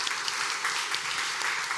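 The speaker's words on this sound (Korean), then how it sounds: "우리 서로의 격려와 사랑의 박수, 축복의 박수 하겠습니다." Steady applause from a church congregation at a Wednesday revival service, a dense even wash of many hands clapping throughout with no voices on top.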